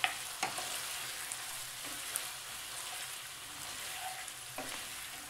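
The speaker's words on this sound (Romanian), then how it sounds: "Și am să mai las totul să se călească bine, astfel încât ceapa să se moaie" Chicken liver with onion, garlic and thyme sautés gently in a pan over low heat. The sizzle is soft and steady, with a few faint clicks from stirring.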